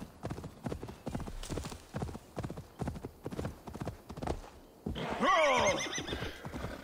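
A horse gallops in an Assassin's Creed Valhalla video game, rapid rhythmic hoofbeats pounding close by, then a loud whinny rings out over the running near the end.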